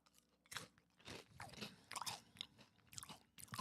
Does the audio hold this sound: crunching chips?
yes